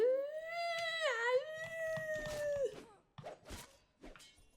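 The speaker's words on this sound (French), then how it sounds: "Je sais pas pourquoi il grogne le chien." A dog in the video game Fable III lets out a drawn-out, rising and falling growl-like howl for over two seconds, followed by a few short thuds and scuffs.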